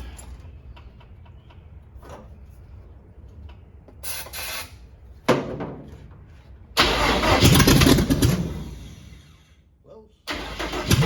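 A cab-over van engine cranks and tries to fire while fuel delivery is being checked, with bursts of starter grinding and a rough, loud catch of the engine alternating with pauses and some talk.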